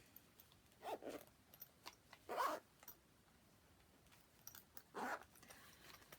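A small zippered bag of cross-stitch supplies being zipped shut, heard as three short, quiet rasping bursts spaced a second or two apart with near silence between them.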